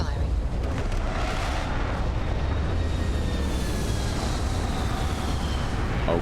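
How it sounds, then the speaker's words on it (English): Spaceship retro thrusters fire during a landing in Starfield, making a steady, loud, broad roaring rush that holds throughout without a break. "Landing struts primed. Retros firing."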